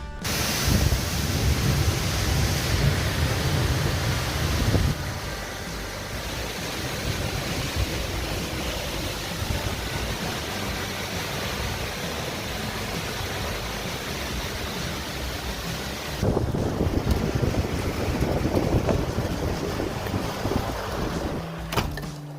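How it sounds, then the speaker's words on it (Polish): A thunderstorm over chicken coops delivers a loud, continuous wash of rain and wind-like roar, with a heavier rumbling swell near the start and again toward the end. "Przechodziły burze tutaj nad kurnikami."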